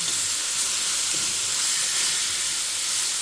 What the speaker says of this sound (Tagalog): Kailangan po natin lutuin ng gusto yung ating breast chicken, guys.